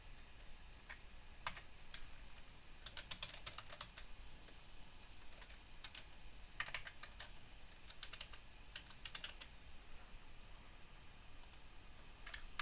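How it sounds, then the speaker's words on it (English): Scattered bursts of computer keyboard typing during Git and GitHub setup, soft and fairly distant, with irregular clusters of key clicks over a faint steady hiss and no talking. "Once you type it correctly, press enter."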